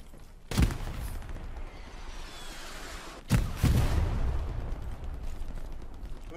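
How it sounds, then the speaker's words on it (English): Two grenade explosions in a military video game, each a sharp heavy blast a few seconds apart followed by a lingering rumbling tail, moderately loud with no talk. "Grenades go out."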